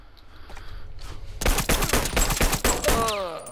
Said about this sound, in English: And lastly, I have old Betsy, the sawed-off double barrel.